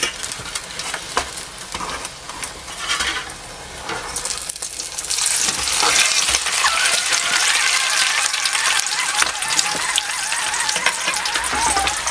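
Toad-in-the-hole is flipped in a pan on a Trangia camping stove. Scraping and clatter come first, then the sizzle grows into a loud, steady crackling hiss that runs close and unbroken, with no talking.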